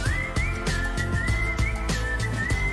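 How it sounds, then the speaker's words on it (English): A whistled melody breaks through in a song, clear and steady over a rhythmic backing with bass and percussion, the tune sliding between sustained notes. "Ooh, a little whistle break."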